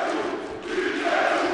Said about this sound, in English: Crowd begins to chant the Romanian fighter.